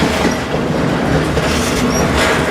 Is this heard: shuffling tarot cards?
no